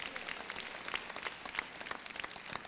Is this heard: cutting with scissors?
no